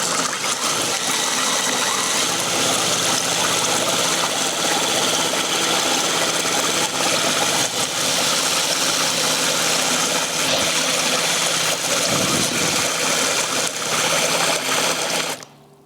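A rebuilt engine runs at about 1000 RPM, a steady, dense mechanical clatter with a fast rhythmic ticking that holds constant and close throughout and stops at the very end.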